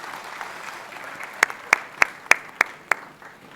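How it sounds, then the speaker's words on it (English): Applause at an inauguration ceremony starts as a soft crowd wash, then turns into about six sharp, evenly spaced claps that ring out loud and close. "Big round of applause for Rajnath Singh ji,"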